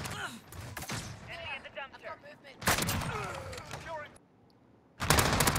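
Light machine gun fire in a shooter game, with loud bursts of rapid shots separated by brief pauses and a voice talking between them.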